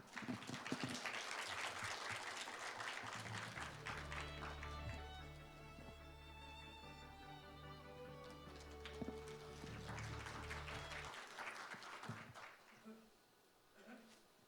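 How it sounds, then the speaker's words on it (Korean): Audience at a Human Rights Day ceremony breaks into warm, sustained applause, a broad crowd of clapping that swells, dips under a brief musical interlude, then rises again before fading out. "여러분 따뜻한 박수로 맞아 주시기 바랍니다."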